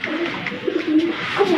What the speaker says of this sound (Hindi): कबूतरी अभी बोल रही थी हमारी।